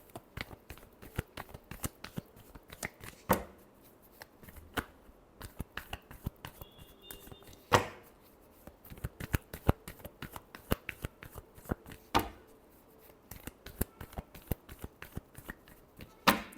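Tarot cards are shuffled by hand in repeated quick riffles and snappy slaps, close and crisp, in irregular bursts with short pauses between them, with no voices.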